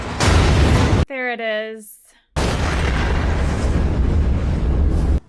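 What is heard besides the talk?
explosion in the Chernobyl TV series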